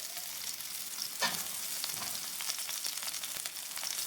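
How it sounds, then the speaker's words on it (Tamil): Onions sauté in ghee with garlic in a pan, a steady close sizzle with crackling pops and occasional scraping stirs. "இந்த வெங்காயத்தை வந்து இந்த நெய்யிலையே வந்து நல்லா வதக்கிடுங்க"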